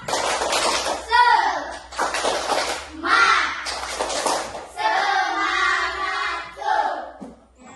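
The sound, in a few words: children doing a rhythmic 'tepuk semangat' clapping chant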